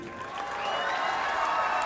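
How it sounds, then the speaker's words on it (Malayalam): An audience in Palakkad claps together at a birthday celebration, a steady wash of applause that swells slightly and holds, with some crowd noise mixed in. "പാലക്കാട് ഒരു പ്രത്യേക കൈയടി"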